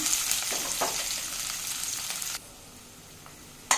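Cut onion hitting hot oil with cumin and kasuri methi, a bright crackling sizzle that drops abruptly to a quieter simmer midway, then flares briefly again at the end.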